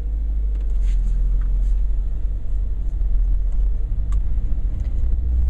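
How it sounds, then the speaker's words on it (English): A manual-transmission car engine hums steadily with a low rumble as the car rolls forward in first gear, a continuous drone heard from inside. "use your newfound knowledge to move the car forward"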